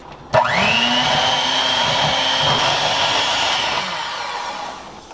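An electric hand mixer beats clam dip ingredients with Worcestershire, Tabasco and seasonings in a bowl, a loud steady motor whine kicking on abruptly and holding for several seconds before trailing off, close up with no talk.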